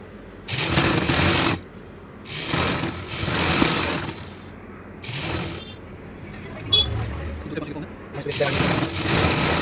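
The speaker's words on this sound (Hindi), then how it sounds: "अब हम इसको दोनों तरफ से सिल देंगे।" Domestic sewing machine stitching farshi salwar fabric in bursts of rapid, close whirring, each run lasting a second or two and separated by short pauses.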